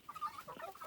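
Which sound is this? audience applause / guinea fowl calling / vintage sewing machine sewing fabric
guinea fowl calling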